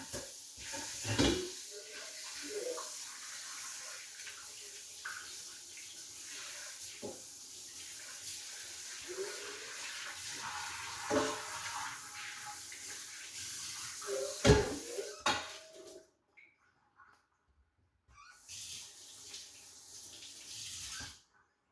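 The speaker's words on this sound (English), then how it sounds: "let me go wash that bowl out real quick" A sink tap runs while a mixing bowl is rinsed out, a steady quiet splash with clinks and knocks of the bowl, stopping briefly before the water runs again.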